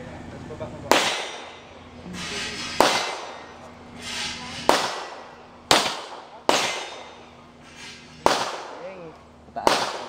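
Firecrackers set off one after another outdoors, about seven sharp, loud bangs at uneven intervals, each trailing off into a brief rumble, with people talking quietly in between.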